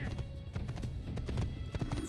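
Horse galloping and neighing in the Assassin's Creed video game, quick steady hoofbeats throughout with a whinny, quiet and close.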